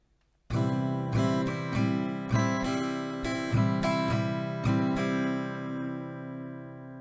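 Acoustic guitar strumming the pattern from a song: a clear up-and-down rhythm of ringing chords that starts abruptly after a short pause, then fades as the last chord rings out, with no talking.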